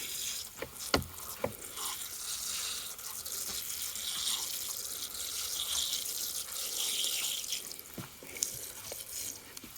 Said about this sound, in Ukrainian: Тому проливаю гарно, щоб аж знизу потікла водичка.